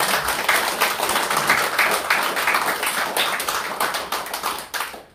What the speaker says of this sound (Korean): 큰 박수로 보내주십시오.